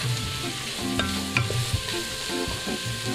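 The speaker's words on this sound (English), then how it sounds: "I will throw in the vegetables, stirring vigorously to deglaze" Vegetables stirred vigorously in an Instant Pot to deglaze, a close, steady frying sizzle with scraping stir strokes throughout.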